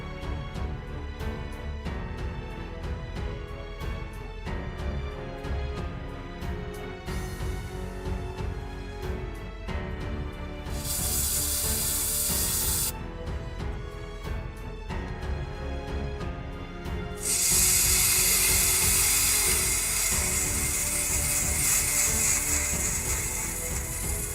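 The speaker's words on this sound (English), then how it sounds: "Going careful here because I don't want to overspray too much." Airbrush spraying paint onto an Armiger of House Griffith model in short, careful passes: soft hissing bursts of air start and stop several times, the last one lasting longer, over quiet background sound with no talk.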